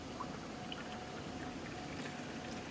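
Water is poured into a pot to make Kashmiri kahwa tea, giving a soft, steady, faint stream of liquid that runs without a break for a few seconds, with no talking over it.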